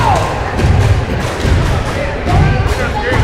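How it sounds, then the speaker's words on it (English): Cheerleaders stomping and clapping at a girls' high school basketball game during a free throw, producing repeated heavy thuds amid a cheering gym crowd, with voices mixed in. "Cheerleaders getting involved here, stomping and clapping to try to distract Walker."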